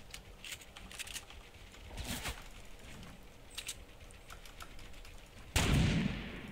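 Semi-automatic weapon fire in Fortnite Battle Royale, scattered sharp shots through the clip with a louder burst near the end, no talking.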